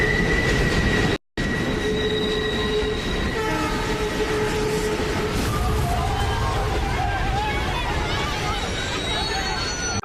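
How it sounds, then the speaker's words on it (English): A train from a show passes loudly and close on the rails, with a continuous rumble, squealing wheels and a horn tone, broken by a brief cut of silence early on. "The train was coming."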